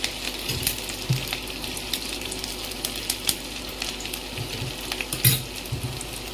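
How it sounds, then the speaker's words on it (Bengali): Chopped ginger and garlic frying in a pan for restaurant-style chili chicken, a loud, dense crackling sizzle throughout with a few clinks of stirring. "এরপর আমি দিয়ে দেব আদা কুচি, রসুন কুচি"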